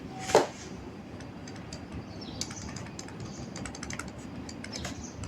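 Keys rattle on a computer keyboard in a steady stream of quick, light clicks, close by and alone, with one louder knock near the start.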